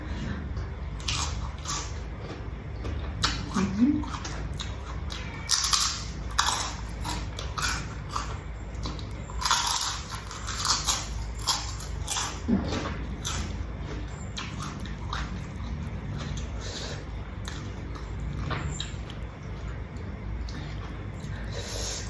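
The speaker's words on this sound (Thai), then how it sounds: "กุ้งสดตัวใหญ่เลยค่ะมาตำ" Fresh shrimp and chili pounded in a mortar for a spicy Isan dish, irregular knocking thuds and scraping, some louder strikes, alongside other kitchen clatter.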